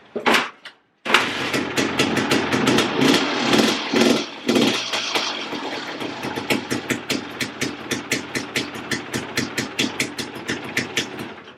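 A Suzuki 250 motorcycle engine idles with the choke on, up close and loud, with rapid pulsing exhaust beats that briefly cut out near the start, rev unevenly, then settle into a steady chugging rhythm.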